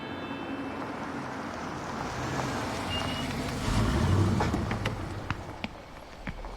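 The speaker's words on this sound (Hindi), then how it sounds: "लो, गाड़ी भी आ गई।" A heavy vehicle rolls in with a low rumbling engine, then a run of short reversing beeps sounds out as it backs up, with scattered clicks and knocks in the background.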